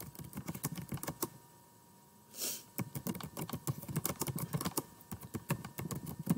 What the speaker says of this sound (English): and then you can type your question.